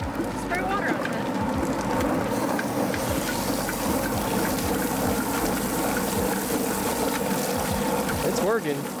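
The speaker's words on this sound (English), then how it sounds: "I think our chicken plucker is a little small, but hopefully it will work." A small chicken plucker runs with water sprayed on it, a close, continuous churning and sloshing rumble with splashing that holds steady throughout, with people talking faintly over it.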